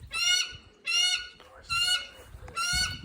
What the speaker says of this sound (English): You don't want to hear your hawk doing that, and neither do your neighbours.